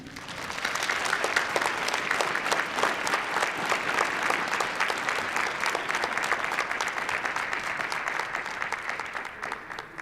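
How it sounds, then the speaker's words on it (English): Audience at an awards ceremony applauding the night's honorees, steady and full clapping from many hands sustained for the whole stretch without a break. "Please join me in applauding our 2026 historical pioneers."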